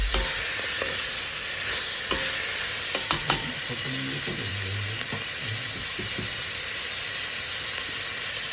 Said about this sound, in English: now we are adding the tomato